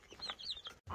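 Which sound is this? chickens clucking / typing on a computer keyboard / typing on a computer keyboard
chickens clucking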